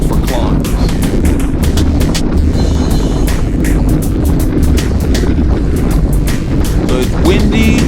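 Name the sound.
wind while group cycling on road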